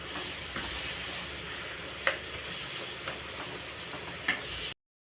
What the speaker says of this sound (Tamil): மாங்காய், நல்லா வதக்கிக்கலாம்.